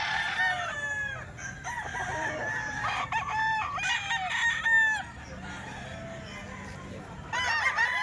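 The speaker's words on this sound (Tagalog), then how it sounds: "Ito pa yung mga manok ni Kuya Javier mga bossing." Chickens and roosters at a farm crow repeatedly, several overlapping cock-a-doodle-doos near and a little farther off, with clucking in between.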